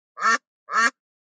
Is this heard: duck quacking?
yes